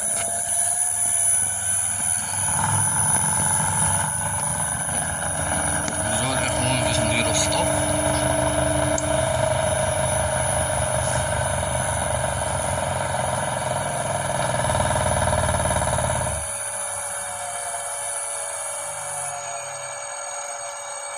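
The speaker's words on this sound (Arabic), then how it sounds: "دونك هو الموتور" An electric motor driven by an Omron MX2 inverter gives a steady tonal whine and hum, running for roughly fourteen seconds and then winding down, with high electronic tones persisting throughout.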